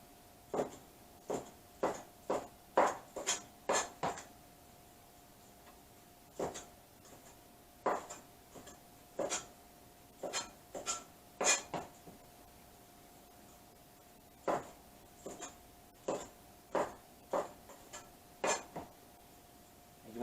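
A knife rough-cutting shrimp on a cutting board, with sharp, crisp chops coming in quick bursts of several strikes separated by short pauses, close and clear with no talking.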